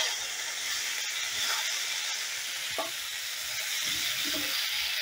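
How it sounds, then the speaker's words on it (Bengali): Cubes of paneer sizzle steadily in hot white oil in a pan over low heat, a continuous close frying hiss with faint stirring, no talk. "পনিরগুলো আমি হালকা লাল লাল করে ভেজে নেব।"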